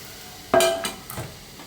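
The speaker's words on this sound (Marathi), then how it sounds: "शिजून घेतलेली डाळ याच्यामध्ये घालायची आणि खमंग अशी फोडणी देऊन घ्यायची" Cooked dal poured into a hot tempering in a pan gives a sudden loud hiss followed by two quicker, softer splashes of stirring and sizzle, then settles back into low background noise.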